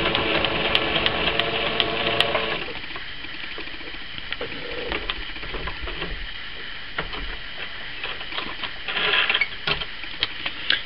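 A sewing machine stitching fabric, a continuous fast mechanical patter that runs throughout, moderately loud and close, with a busier stretch in the first couple of seconds.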